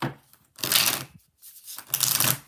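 Two bursts of crisp, rapid riffling as a deck of tarot cards is shuffled close by, separated by a short pause.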